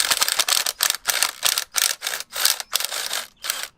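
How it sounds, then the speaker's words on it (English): Handheld drill bores out bolt holes in a Classic Mini door hinge, working without a vice; eight rhythmic bursts of close, loud, high-pitched cutting, each stopping briefly between passes. "And now I'm going to drill it."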